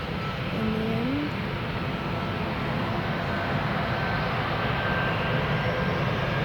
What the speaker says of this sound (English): The Malta there that you can see on runway, well, that is going to be our last aircraft of the day in the end.